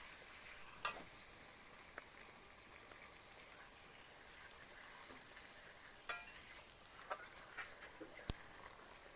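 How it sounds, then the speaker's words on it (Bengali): Ginger garlic paste frying in a pan for a chicken dish, with a faint soft sizzle and scattered sharp pops and clicks of utensils, quiet and steady. "আদা রসুনটা একটুখানি ভেজে নেব যাতে কাঁচা গন্ধটা চলে যায়"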